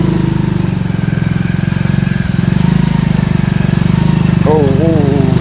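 Motorcycle riding along a path still under floodwater in Mullaitivu, Sri Lanka, its engine droning loud and steady and close throughout, with someone speaking briefly near the end.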